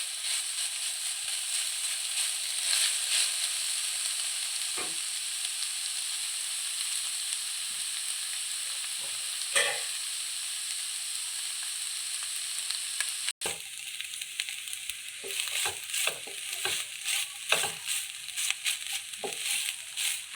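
Mutton blood and egg fry sizzling steadily in a pan on low heat, with a constant hiss and occasional scraping stirs that grow more frequent toward the end; no one speaks.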